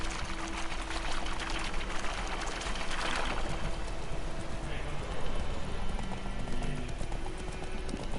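Galloping horse hooves in The Witcher 3 drum in a steady, continuous clatter under a wash of broadband noise, loud and close throughout with no talk.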